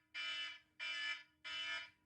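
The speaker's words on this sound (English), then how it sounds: "That's the alarm." An electronic alarm goes off in three evenly spaced, sustained high buzzing tones with short gaps between them, steady and fairly close, with no voices over it.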